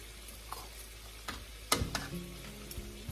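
Pork ribs frying in a pan on a stovetop over low heat, a soft steady sizzle with a few clinks and stirring knocks, close and fairly quiet.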